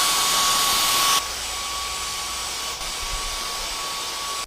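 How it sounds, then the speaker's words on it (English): A vacuum cleaner fitted with a brush attachment runs steadily as it sucks sawdust off a wooden skateboard deck, a loud continuous whine that drops in pitch and volume partway through, with no voices. "use a vacuum like this with like a brush and just kind of go and vacuum all that sawdust off the board"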